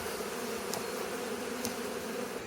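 A steady, even drone of many bees at an opened hive, the honeybee colony being handled during preparation for the sunflower nectar flow; the hum runs continuously and fairly close with two faint high clicks, and no one speaks.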